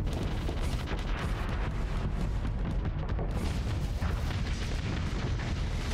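Explosions from torpedo bombing runs in the space combat game Starsector, a dense, steady rumble of overlapping blasts and crackling booms with no pauses and no talk.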